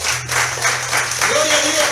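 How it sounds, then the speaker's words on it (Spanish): Applause breaks out at a Spanish-language church service, a steady wash of clapping that swells and holds across the moment while voices carry beneath it. "dale un aplauso al Señor."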